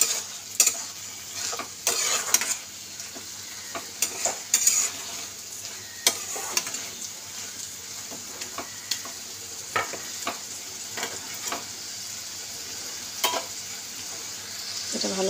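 Sugar stirred into sizzling palak saag in a pan, a steady frying sizzle with repeated scraping and clinking of a utensil against the pan, close and fairly loud.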